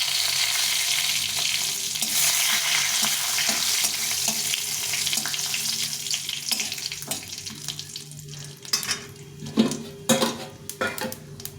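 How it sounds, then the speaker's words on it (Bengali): Dry red chillies, cumin seeds and two bay leaves dropped into hot oil for a vegetarian curry, a steady close sizzle with crackles, then sharp clatters and knocks of utensils toward the end, no speech. "এখন এই তেলে শুকনো লঙ্কা এই সাদা জিরে হাফ হাফ চামচ সাদা জিরে আর দুটো তেজপাতা"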